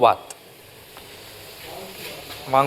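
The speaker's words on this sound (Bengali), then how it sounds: "প্রথমে কড়ায় তেল দিয়ে আলুগুলোকে ছাকা তেলে ভাজছে।" Potatoes deep-fry in oil in a wok with a faint, continuous sizzle, and brief voices speak at the start and end.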